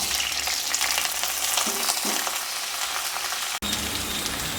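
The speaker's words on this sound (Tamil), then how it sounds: "ஒரு 5 நிமிஷம் அப்படியே நல்லா வதக்கி எடுக்கணும்." Broad beans (avarakkai) sauté in sesame oil, giving a dense, even sizzle that holds steady at close range for several seconds, with faint stirring and a brief dropout near the end.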